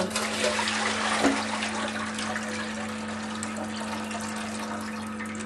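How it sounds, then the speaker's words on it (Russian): Water gushes steadily into a bowl of mussels, a continuous rushing pour that slowly softens, with a low hum underneath. "Вливаем воду."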